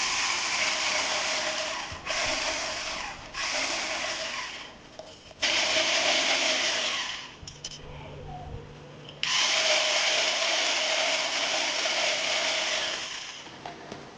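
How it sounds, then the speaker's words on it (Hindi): An electric hand beater whips sugar and cream in a bowl, loud steady motor whine in several long bursts separated by short pauses, running alone without talk. "बीटर लेके चीनी और क्रीम को हमने मिक्स कर लेना है"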